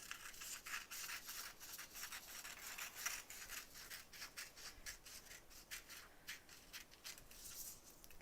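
Paper scissors snip through paper in quick, faint, repeated cuts with a dry scratchy texture, close by and alone.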